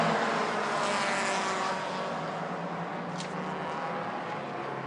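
Race cars running side by side on a circuit give a continuous engine drone at moderate distance, fairly loud at first and easing slightly as they move on.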